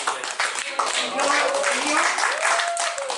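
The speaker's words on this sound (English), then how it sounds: "really just another warm round of applause for this gentleman" Audience applause welcoming a performer to the stage at a Hawaiian music event: a dense wash of clapping running throughout, with a voice speaking over it near the microphone.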